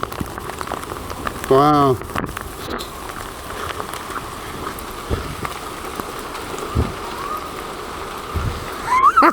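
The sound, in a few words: hailstorm hailstones falling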